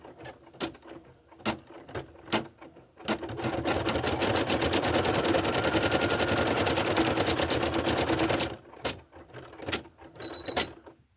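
An embroidery machine stitching felt voodoo doll felties: a few separate clacks, then a loud, fast, steady run of needle strokes for several seconds before it stops and the scattered clicks resume.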